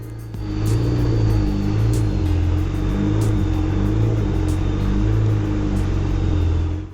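A 4x4 climbs a slippery rocky track toward the peak of Mount Matlock, its engine droning steadily and close, with clunks and rattles from the vehicle over the rough ground and no voices.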